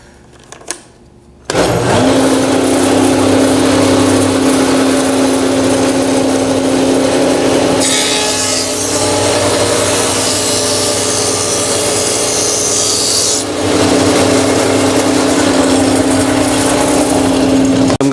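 A jointer planes a wooden board, its motor starting with a sharp rise and then holding a loud, steady high-pitched whine with a rougher cutting passage through the middle.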